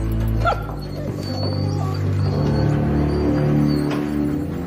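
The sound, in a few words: dog barking and whimpering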